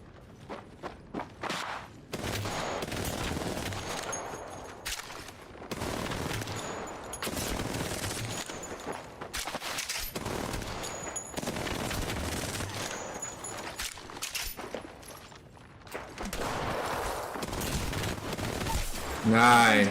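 Gunfire rattles through an Apex Legends match in rapid bursts and sustained automatic volleys, loud and close, with short pauses and mechanical clicks between strings of shots.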